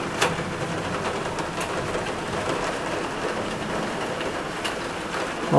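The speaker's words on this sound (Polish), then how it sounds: "Gradobicie i ulewa." Heavy downpour with hail pounding steadily during a thunderstorm over Łowicz, a dense, loud, continuous roar with a few sharp impacts standing out.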